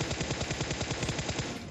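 Sustained rapid automatic gunfire in PUBG, a video game, with evenly spaced shots rattling continuously at close range for the whole stretch.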